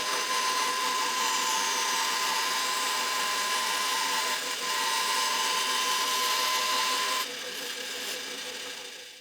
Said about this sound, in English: he's decided to do those on the belt grinder